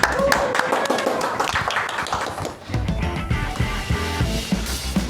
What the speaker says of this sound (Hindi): तालियों की गड़गड़ाहट के बीच में स्वागत कीजिए